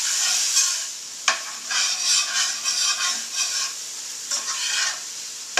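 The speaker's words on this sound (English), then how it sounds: "So I'm going to saute for a little bit just to brown up the patty." Beef patties sautéing in a pan to brown, with a steady close sizzle broken by repeated scraping strokes of a utensil against the pan.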